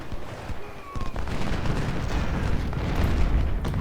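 Cannon and musket fire rumble through a Civil War battle in Ultimate General: Civil War, with a dense barrage of booms and cracks building into a continuous roar.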